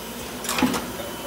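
XINYOU automatic tube filling machine kicking a tube out, a short mechanical whir and clack from a nearby machine against a steady low hum.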